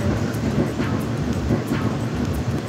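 A train travelling to Rome carries a steady, loud rumble heard from inside the carriage, with faint rhythmic clicks of the wheels over the rails and no talking.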